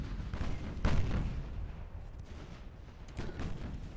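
Naval guns fire in the Ultimate Admiral: Dreadnoughts battleship game, with a loud boom near the one-second mark and a second, softer report late on, each followed by rumbling decay over steady low background noise.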